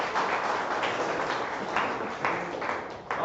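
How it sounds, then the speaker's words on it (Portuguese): A church congregation claps together in praise, a dense, steady wash of hand claps with a few louder surges, filling the room without any voices over it. "Palmas para o Senhor Jesus Cristo."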